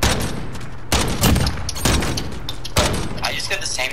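Gunfire in a Call of Duty 3v3 Gunfight match on the Rust map, loud bursts of shots in several clusters with some echoing booms, heard under an ongoing game soundscape.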